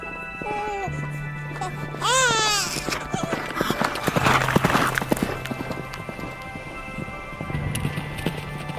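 Horses' hooves clip-clop in a rhythmic series beneath dramatic music, layered with a child's wailing and people speaking.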